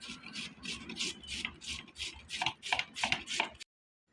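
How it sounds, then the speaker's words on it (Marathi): Carrots for gajar halwa are grated by hand in a steady run of about a dozen rhythmic rasping strokes, close and clear, ending abruptly in silence. "साल काढून झाल्यावर सर्व गाजरांना किसून घेतले."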